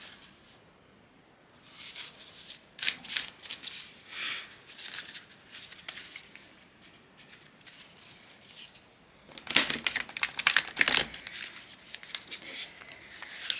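Astrology cards are shuffled by hand in quick papery bursts of riffling and flicking, with quieter pauses between, close and fairly faint.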